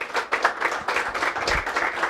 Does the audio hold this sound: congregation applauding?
yes